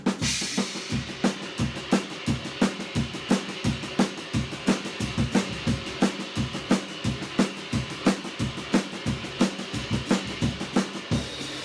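Rock drum groove on a full kit, steady kick and snare backbeat with straight eighths on the ride cymbal and hi-hat, loud, close and evenly repeating throughout, no talking.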